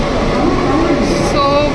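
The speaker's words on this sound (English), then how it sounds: "we are getting on the train" A train at Howrah station produces a loud, dense rumble and rattle with brief metallic squeals and tonal hums, with people talking under the noise.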